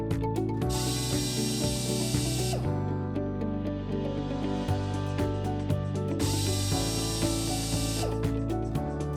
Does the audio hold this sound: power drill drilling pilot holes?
yes